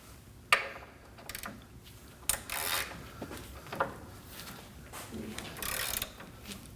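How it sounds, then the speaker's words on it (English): A 17mm socket wrench works a bolt loose on a 2011-2016 Kia Optima front suspension, giving a few sharp, separate ratcheting clicks and metallic taps close by, spaced irregularly with quiet gaps between. "Using a 17mm socket, we're gonna go ahead and remove this bolt."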